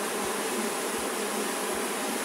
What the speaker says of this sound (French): il y aura quand même quelques abeilles qui vont voler